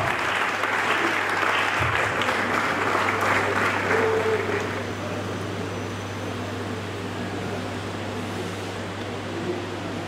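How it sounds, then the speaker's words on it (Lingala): An audience bursts into loud, sustained applause for a general director, a broad wash of clapping that fills the first few seconds and then thins away, leaving a low electrical hum. "mesdames et messieurs, d'applaudir très très fort, s'il vous plaît"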